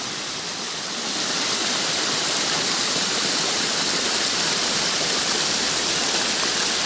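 A waterfall crashes down into a small stream in a constant, loud rushing roar, rising in volume after the first second and then holding steady, heard alone without voices.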